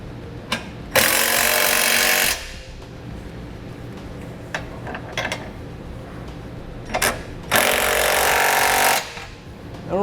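An impact tool with a 3/4-inch socket snugs up trailer hitch hardware on a 2017 Mazda CX-9, giving two loud, rapid hammering bursts of about a second each, separated by quieter clicks and handling noise.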